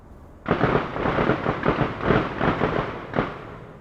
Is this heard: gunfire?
yes